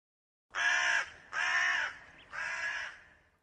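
A crow caws three times as a sound effect in a Hindi TV comedy show, each caw loud, harsh and drawn out, separated by short pauses.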